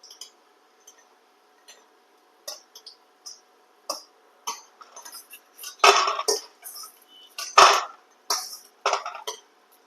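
Lentil dumplings (bori) being turned over as they fry in oil: a series of sharp metal clinks and scrapes of a utensil against the pan, irregular and close, with a faint background hum and no talking.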